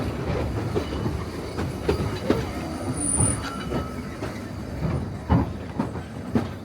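Train wheels rolling and clacking over rail joints with a thin metallic squeal, heard up close as the carriage slows into Devil's Bridge station on the Vale of Rheidol railway, no talking.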